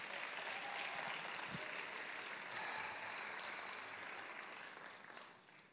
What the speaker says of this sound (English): So, round of applause to yourselves.